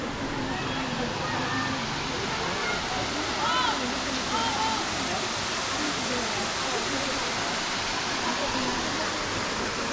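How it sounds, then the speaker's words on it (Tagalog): Bolinao Falls number 1 waterfall roars steadily and loudly, a constant dense rush of falling water filling the whole stretch, with faint voices and bird chirps barely audible beneath. "ito po yung Bolinao Falls number 1"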